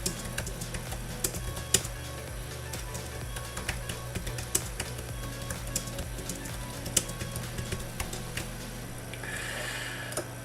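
Keyboard typing a comment, irregular clicky keystrokes in short bursts over a steady low hum, fairly close but quiet.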